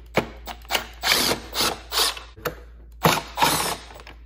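Phillips head screws being backed out of a Duramax truck's tow mirror cover, a series of short close ratcheting and scraping bursts in an uneven rhythm, with no talking.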